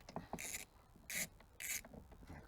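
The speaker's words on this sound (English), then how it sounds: "Take off that bolt and washer." Hand tool loosening and removing a bolt and washer from a rear rack on a 2021 Can-Am Spyder F3T motorcycle, three short close bursts of rasping ratchet clicks with faint metallic handling between them.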